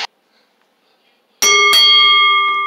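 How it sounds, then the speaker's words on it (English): At a women's wrestling match, the ring bell is struck twice in quick succession, sounding loud and clear with a long metallic ring that lingers after near silence. "All right, bell ring"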